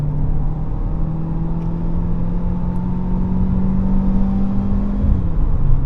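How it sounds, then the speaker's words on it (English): A 2025 Jaecoo J7 with a 1.6T engine revs hard under acceleration. The steady, loud engine drone climbs gradually in pitch and then drops sharply near the end, as if from a gear change, with no voices over it. "you can hear the engine that it's actually screaming"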